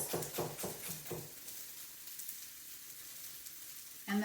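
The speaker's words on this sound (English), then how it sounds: "these, you just want to saute them in the pan for, I don't know, 5 or 10 minutes or something until they get a little bit soft" Celery-like leafy green stalks sauteing in a pan, a soft crackling sizzle with a few rhythmic stirring scrapes at the start, quieter steady frying after, then a louder burst at the end.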